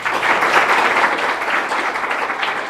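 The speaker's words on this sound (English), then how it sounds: "Let's give them a round of applause." Sustained applause from a public forum audience honoring members of a presidential search committee, a dense, steady wash of many hands clapping at once, loud and continuous without talk.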